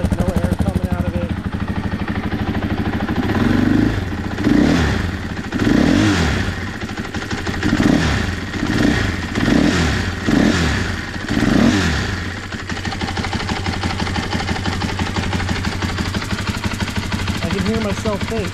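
A 2024 KTM 500 EXC-F dirt bike engine idles and blips with a quiet exhaust, a steady low thrum broken by a run of short rhythmic revs in the middle before settling back to idle, with voices talking over it.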